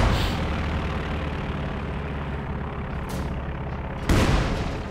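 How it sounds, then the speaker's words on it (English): Howitzer artillery fire in the Company of Heroes 2 strategy game, with a steady rumbling battle bed broken by sharp booming blasts, a heavy one near the end, with no talk. "Howitzer there seems to be firing on here"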